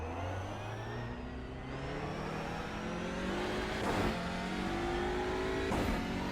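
An Audi TCR race car in iRacing revs steadily through the gears, a loud continuous engine drone with rising pitch sweeps and two brief bursts near the end.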